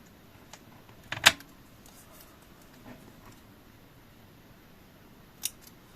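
Scissors snip through paper while a spring scrapbooking greeting card is being made, one sharp crisp cut standing out clearly, with a few fainter snips and small handling noises around it in a quiet room.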